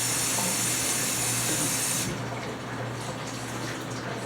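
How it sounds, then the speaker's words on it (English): Water splashes into a pan of homemade gravy for smothered chicken, a steady loud gushing pour that stops abruptly about halfway, leaving a softer sizzling hiss. "Now I'm going to add some water to it because it's going to thicken up."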